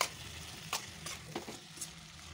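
Shredded cabbage and vegetables are stirred into Indian-style masala pasta in a pan, soft sizzling under a few spoon scrapes at a steady, quiet level, with no talking.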